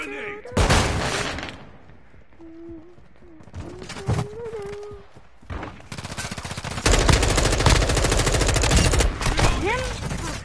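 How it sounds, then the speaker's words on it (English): Call of Duty match with a flash grenade thrown amid heavy gunfire: repeated loud bursts of automatic fire and explosive blasts dominate, with a player talking over parts of the action. "Throwing flash grenade!"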